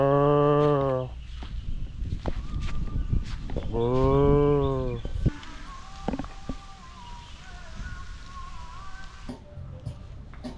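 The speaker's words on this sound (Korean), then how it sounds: "송아지인가?" A calf moos twice in long, loud, harmonic calls near a forest path on Gili Air, Indonesia, followed by quieter ambient sounds and faint scattered noises.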